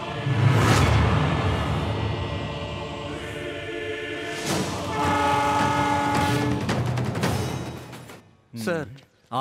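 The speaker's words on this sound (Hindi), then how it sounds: "ये रेलवे ट्रैक का सिग्नल है" A train horn blares near a railway track amid rumbling rail noise, with a long loud blast, a second sustained honk, then an abrupt cutoff into brief scraps of sound.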